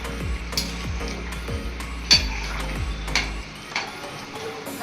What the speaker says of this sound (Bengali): ভালো করে ঝোলটার সঙ্গে মিশিয়ে দেব।